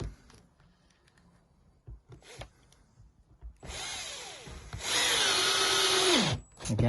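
A power drill drives short screws into a kayak and paddleboard storage rack, with two whirring bursts close by, the second longer and winding down, after some handling clatter.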